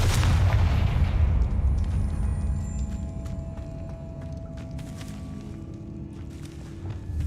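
Spell blasts cast in Hogwarts Legacy open with a deep booming impact that rolls off into lingering rumble, followed by lighter crackles and scattered hits at moderate loudness.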